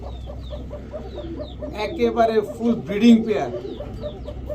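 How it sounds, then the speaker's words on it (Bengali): A breeding pair of Basiraj Kaka pigeons, male and female, coo and call repeatedly nearby while someone talks over them. "বাসিরাজ ককা নরমাদি দুইটাই ডাকে।"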